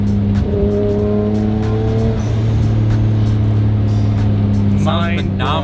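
Nissan Skyline R33 GTR engine droning steadily with strong low harmonics while driving, loud and close throughout, a higher whine and brief tire noise near the end, with people talking over it.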